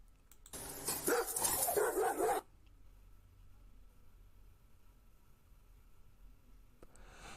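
A dog attacks and barks in a rapid, loud, agitated burst lasting about two seconds, followed by quiet background noise and a faint sound near the end.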